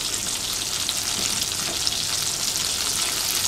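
Brinjal (eggplant) slices frying in a small amount of oil for crispy Bengali begun bhaja, giving a steady, dense sizzle that holds at an even level throughout, with no voices over it.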